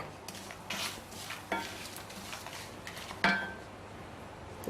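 Quiet scraping and clinking of a spoon stirring a spice mixture with asafoetida in a pan, with a few soft knocks against the metal and a faint sizzle beneath.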